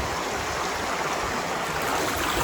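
A village rainwater stream swollen overnight after heavy rain, rushing and roaring in a steady, loud, continuous wash of flowing water, heard alone without talk.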